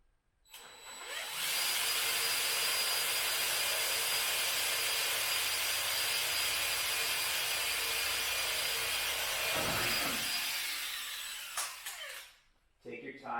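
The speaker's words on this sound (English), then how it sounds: "using a number 40 drill bit, I will come in here and drill one hole" A number 40 drill bit boring a hole into aircraft top skin during a Van's RV-7 build, a loud, steady high-pitched whine running about ten seconds, then spinning down and stopping.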